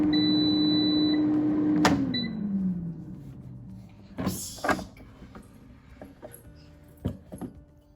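An air fryer basket is pulled open after baking a fruit cake: a sharp click as the running hum winds down, followed by a couple of nearby sliding clunks and small rattles.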